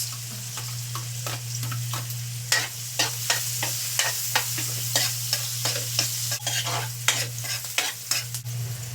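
Garlic and onion frying in a pan for a tilapia sauce, with a steady sizzle throughout and a run of quick scraping stirs close by, no talking.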